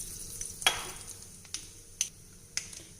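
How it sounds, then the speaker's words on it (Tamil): Mustard seeds and urad dal splutter in hot oil in a kadai on the stove, giving a quiet run of sharp, scattered pops and crackles with one louder burst and a few isolated snaps. "கடுகு உளுத்தம்பருப்பு பொரிஞ்சாச்சுங்க."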